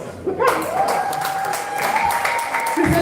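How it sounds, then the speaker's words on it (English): A round of applause breaks out at a creators' meet-up in Ghana, dense clapping from a gathered crowd, with a sustained tonal sound and a voice or two mixed in beneath it. "just a round of applause"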